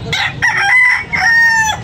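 Close, loud crowing from a red rooster in a drawn-out call, with a second crow following right after, at a chicken market in Tabunok, Talisay, Cebu.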